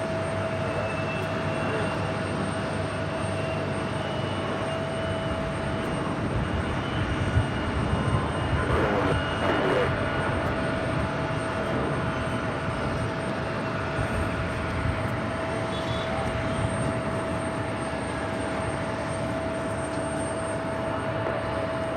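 A jet airplane at New York JFK airport roars steadily and loudly with a constant whine over a broad engine rush, holding its level throughout.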